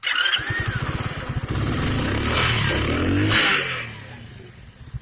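A small Kuba Dragon 50cc motorcycle engine putters close by, rising into a louder rev and then settling back to a rough, uneven idle.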